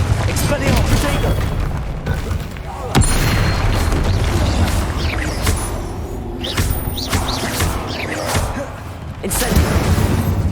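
Spell blasts from a Hogwarts wizarding video game, Incendio fire spells and Confringo explosions, boom and thud repeatedly over a dense, loud battle din, with sharp bursts near three and nine seconds and voices calling out throughout.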